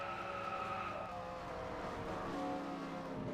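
A multi-car pileup in a stock car racing video game, with engine roar and tire skids blending into a continuous, loud wash of racing noise and no talk.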